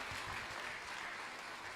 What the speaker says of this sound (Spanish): un aplauso para Richard, ¿verdad